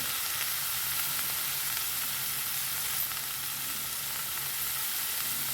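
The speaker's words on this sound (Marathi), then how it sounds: "सर्व मसाला आणि तोंडली एकत्र छान कालून घ्यायची चांगले हलवायचे" Thinly sliced ivy gourd (tondli) frying with masala in a pan while being stirred, making a dense continuous sizzle that stays close and even throughout, with no voices.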